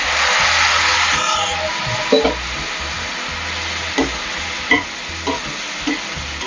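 Thin tomato slices frying in a pan for prawn gravy, a steady loud sizzle with a few sharp scrapes and knocks of a spoon against the pan.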